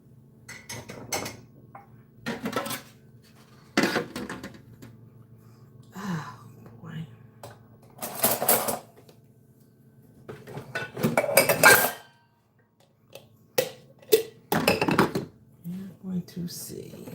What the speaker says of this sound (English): I'm gonna put my dishes up